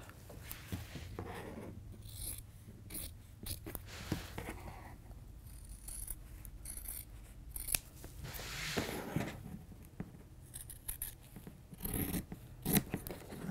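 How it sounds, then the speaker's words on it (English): Scissors snipping fabric ties to length at close range, a steady run of soft crisp cuts and rustling cloth, quiet and without talk. "try to trim the ties and make them exactly the right length."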